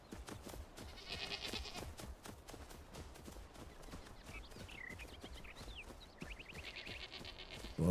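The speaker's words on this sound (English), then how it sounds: "Bunch of sheepies, whatever they call them in this game." Sheep in the video game Enshrouded bleat in short, wavering calls over steady game ambience and footstep-like thuds, moderately faint and mixed into the background.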